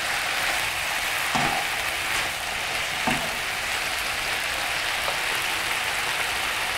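Salted food sizzling and frying in a pan, a constant loud hiss with occasional scraping clicks as it is stirred, no voices.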